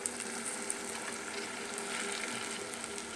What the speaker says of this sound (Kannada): ಇವಾಗ ಇದಕ್ಕೆ ನಾನು 1 ಲೋಟದಷ್ಟು ಸಣ್ಣ ಲೋಟದಲ್ಲಿ ನೀರನ್ನು ಹಾಕ್ತಾಯಿದ್ದೀನಿ.